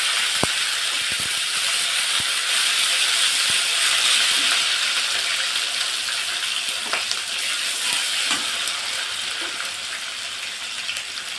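Ground garlic, ginger and cumin paste hitting hot oil in a pan, a loud continuous hiss and sizzle with scattered pops and a few sharp utensil clicks, easing slightly toward the end.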